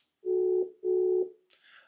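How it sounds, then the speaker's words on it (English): An unanswered phone call gives two steady electronic ring tones of equal length with a short gap between them, clear and close, followed by a brief faint higher sound. "No answer on the phone call."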